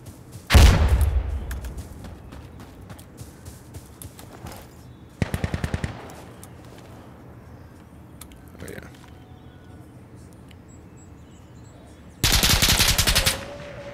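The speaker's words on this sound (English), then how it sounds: "Was that somebody behind me shooting through this" Automatic gunfire in the video game Insurgency Sandstorm comes in three loud, close bursts of rapid shots separated by quieter stretches of faint ambient noise.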